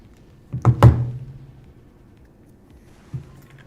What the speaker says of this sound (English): That thing is devastating. The trash cannon or whatever.